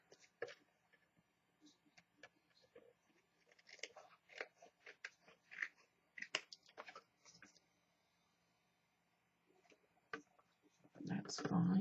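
Scissors snip and trim fabric pockets in short irregular bursts of crisp cutting clicks, close and quiet, with a pause near the end before a louder rustle of handling.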